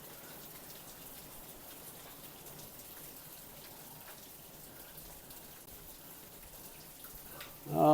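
Steady rain falls through a home garden with running waterfalls, an even hiss of drops on foliage and surfaces throughout, and a louder splash at the very end.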